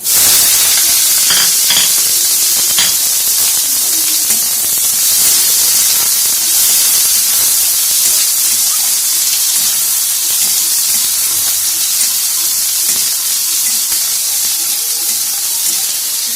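Chopped onions fry in a pan with cumin powder, a loud, steady sizzle and hiss close up, with occasional stirring scrapes underneath.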